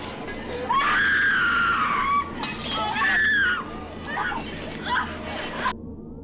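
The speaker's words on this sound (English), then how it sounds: "Now it's Barbara's time to scream uncontrollably." A woman screams uncontrollably in a jungle scene from classic Doctor Who, The Keys of Marinus, with loud shrill wailing bursts that rise and fall over a few seconds, then trail into fainter cries.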